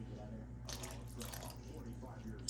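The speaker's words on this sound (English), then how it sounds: "We're just gonna add a little bit of water till we get it to the consistency that we want it" Water poured from a cup into thick onion gravy in a pan, giving a faint, brief splash and trickle against a steady kitchen hum, with a voice talking over it.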